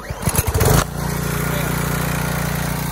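A small gas engine on a Ryobi 2900 psi pressure washer, already warm, sputters into life with a burst of uneven revving, then settles into a steady, loud, droning idle close by.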